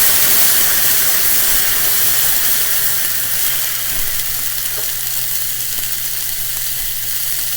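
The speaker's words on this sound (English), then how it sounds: "I'm going to add a half a cup of water, maybe more. We'll see. It's going to sizzle." Steady, loud sizzling and hissing as water hits a hot pan of Italian sausages, a continuous crackling spray that fades only slightly over time.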